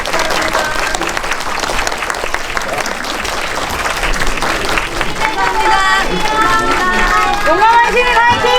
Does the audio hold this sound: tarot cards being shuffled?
no